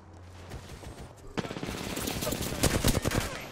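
Rapid gunfire from a first-person shooter video game, starting faint then bursting into dense, loud automatic fire and fusillade that builds toward the end.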